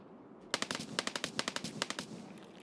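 Automatic gunfire in the shooter game Escape from Tarkov crackles in rapid bursts of sharp shots, heard fairly faint and distant after a brief quiet start.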